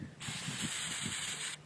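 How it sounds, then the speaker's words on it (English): Kilz primer sprays from an aerosol can onto a styrofoam headstone in one continuous hiss lasting over a second, close and steady, with faint low knocks underneath. "Now the next step is to spray the headstone with Kills."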